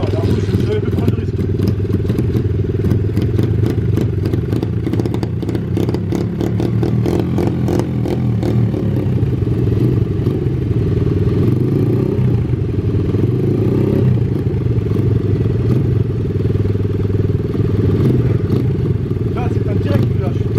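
A red motocross bike's engine running just after starting, a loud continuous close-up idle and rumble with some clatter, under a voice speaking over it.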